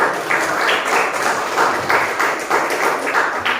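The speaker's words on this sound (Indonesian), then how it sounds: "tolong beri tepuk tangan dulu" Students in a classroom give steady, moderately loud applause, many hands clapping together in an even patter that keeps on without a pause.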